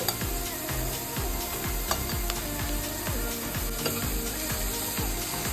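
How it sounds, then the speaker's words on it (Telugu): Boiled cabbage fries in oil with moong dal in a pan for a cabbage pesarupappu curry, giving a steady close sizzle with a rhythmic run of scraping stirs and clicks. "ఒక 2 మినిట్స్ అట్లా ఆయిల్లో ఫ్రై చేసుకోవాలి క్యాబేజ్ని, పెసరపప్పుని కలిపి."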